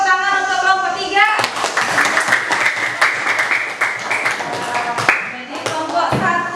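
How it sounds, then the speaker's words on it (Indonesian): Schoolchildren in a classroom clap for group 3, a quick burst of lively hand claps from a small group, with children's voices and a sung or chanted phrase at the start and chatter throughout. "Beri tepuk tangan untuk kelompok 3."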